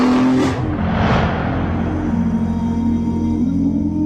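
A BMW 3 Series car corners hard, its engine note surging with a rushing swoosh at first, then settling into a steady, droning hum with slight pitch shifts as it holds the turn.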